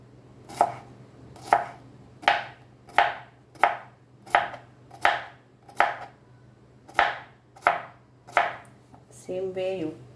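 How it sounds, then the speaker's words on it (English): A knife chops a cucumber for a green salad in about a dozen crisp, evenly spaced cuts against a board over a steady low hum, with a brief rattle at the end. "So you have to cut the cucumber in this way."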